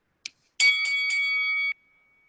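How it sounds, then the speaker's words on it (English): A short tick, then a clear electronic bell chime held for just over a second, signalling the end of speaking time in an online school parliamentary debate; loud, close and alone against silence. "the bell sound will be heard, and you guys have to stop making your statement at that point of time"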